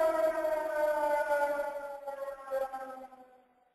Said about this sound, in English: while the siren goes off